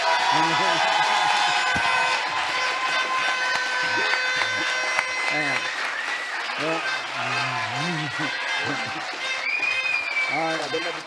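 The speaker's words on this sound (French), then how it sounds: "Il faut applaudir pour la Wallonie." A crowd applauds and cheers loudly and continuously, with whoops and shouting voices rising over the clapping throughout.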